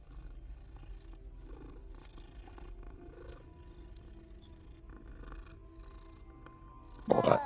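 A cat in the game Hogwarts Legacy purrs with a low, steady rumble for several seconds, quiet and close, ending in a short louder burst.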